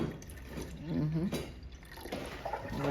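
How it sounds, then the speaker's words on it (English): Spring water poured into a pot of Irish moss mixture, a brief liquid trickle and splash close by, partly mixed with background noise. "I'm gonna add some spring water to that."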